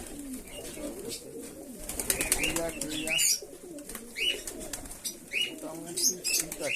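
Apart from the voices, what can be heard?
pigeons cooing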